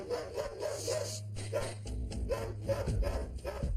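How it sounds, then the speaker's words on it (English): A frantic, aggressive dog barks in a series of short, rough barks, moderately close, with background rubbing and movement noise. "A frantic dog in this aggressive state can be very dangerous"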